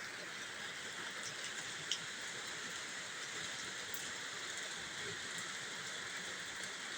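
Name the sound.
heavy rain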